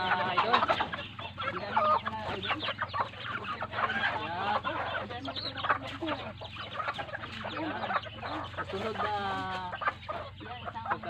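Native chickens cluck and squawk busily at feeding time, a close, overlapping flock chatter with sharp calls breaking through, and some faint human voice mixed in.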